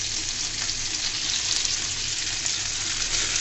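Chopped onions fry in soybean oil in a pan, giving a steady, dense sizzle that stays even and close throughout with no voices.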